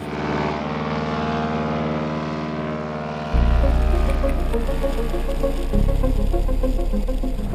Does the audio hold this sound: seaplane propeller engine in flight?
yes